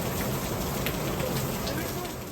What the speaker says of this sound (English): It's pouring and tornado warnings.